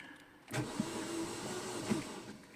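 A car engine cranking in a workshop, a close starter whir with two sharp catches as it turns over, holding at a steady level without plainly firing.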